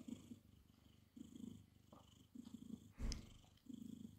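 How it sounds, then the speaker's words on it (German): A house cat purrs up close in a quiet room, soft rhythmic rumbling pulses with pauses for breath, and one brief louder rustle partway through. "Du schnurrst hier rum."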